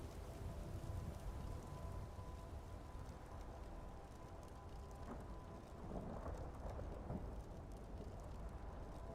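Steady rainfall in the video game Skyrim, a dense continuous hiss of drops with low rumbling beneath, holding even and fairly loud throughout with brief louder swells near the end.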